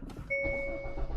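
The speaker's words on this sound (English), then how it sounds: "if I turn this car on" A 2022 Hyundai i30 N hatchback engine cranks and catches, settling into a steady idle hum with a faint high whine, close by and with no talking.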